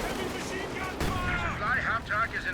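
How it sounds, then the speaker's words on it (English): Sherman tank and anti-tank gun fire in a World War II strategy game: sharp booming shots and crackling gunfire amid battle noise, with a commentator talking over them. "An anti-tank gun, it will be getting some nice shots in onto that Panzer IV."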